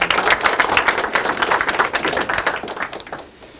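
An audience applauds to welcome the first presenter at an integrity lecture contest, a dense burst of many hands clapping loudly and steadily before fading away at the end.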